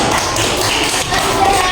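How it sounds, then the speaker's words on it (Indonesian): Schoolchildren in a primary school coding class clap together for a group, a loud, dense patter of small hands mixed with thumps, heard close up. "Tepuk tangan untuk kelompok 4."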